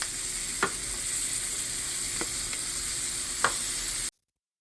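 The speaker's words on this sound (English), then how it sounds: "We're going to add the tomatoes." Tomatoes hit a hot pan of browned rice for Mexican rice, giving a steady loud sizzle throughout with a few sharp clicks of a utensil against the pan, then an abrupt stop.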